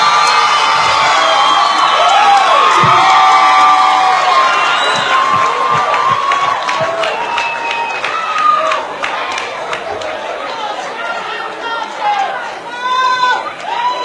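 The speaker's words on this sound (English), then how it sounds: "A round of applause, ladies and gentlemen." Loud crowd cheering and whooping from a stand-up comedy audience, with shrill shouts and excited voices filling the whole stretch right after an onstage marriage proposal, fading slightly then flaring again near the end.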